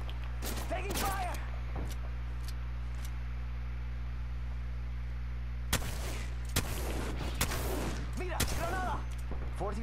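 Gunfire bursts in a battle royale video game, several sharp broadband cracks clustered near the start and again in the second half over a steady hum, with a voice speaking between shots.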